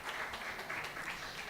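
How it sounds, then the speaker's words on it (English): Brief, faint applause from an audience at an online certificate ceremony, a soft, even patter of clapping lasting only a moment. "please give a hand of applause"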